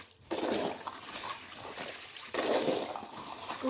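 Water pours and splashes out of a container holding cut kanangeluthi (mackerel) fish, two bursts of sloshing and trickling close by.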